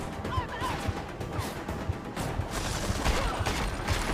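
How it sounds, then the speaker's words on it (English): A shotgun fires repeatedly in the video game Deus Ex: Mankind Divided, with a fast, regular series of punchy blasts about half a second apart over dense combat noise and music. "That shotgun is the best."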